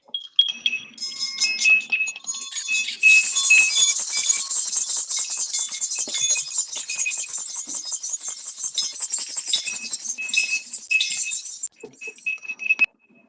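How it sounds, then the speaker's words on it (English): Several handheld bells ring together in a bright, sustained jangling cacophony during a Unitarian Universalist church service, rising after a few scattered strikes, continuing for about ten seconds, then thinning to a few last clinks. "after we have rung our bells and enjoyed the lovely cacophony of the bells"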